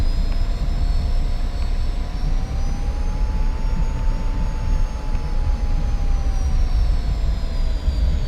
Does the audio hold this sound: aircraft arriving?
yes